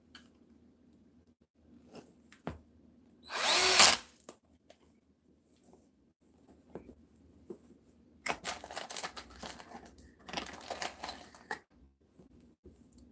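A power drill drives screws into pre-drilled holes while an ottoman is built, with quiet short bursts, a loud whir of a few seconds and later two longer runs of buzzing and rattling.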